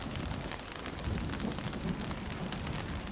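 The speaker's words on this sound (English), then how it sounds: "The rain doesn't catch us over here." Heavy rain pours steadily and densely on surfaces outdoors during a thunderstorm, with a low rumble of thunder running beneath the constant downpour.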